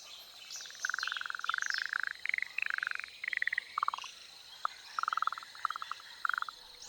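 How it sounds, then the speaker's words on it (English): A poison dart frog in the Amazon rainforest calls with rapid repeated buzzing trills in short bouts, fairly close, over soft forest ambience with faint birds. "The poison dart frog."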